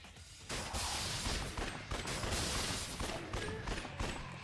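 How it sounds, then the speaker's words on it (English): Pistols fire at zombies dropping in during a Dead Souls game round, a rapid run of sharp gunshots with mechanical clatter over a busy, loud game mix. "I'm just shooting the zombies as they drop in"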